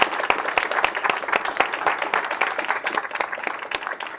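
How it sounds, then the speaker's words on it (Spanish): An audience applauding the Chilean sportswoman Kristel Köbrich at a talk event, a fairly close crowd of distinct hand claps forming a lively, slightly uneven round of applause. "Y un gran aplauso para ti."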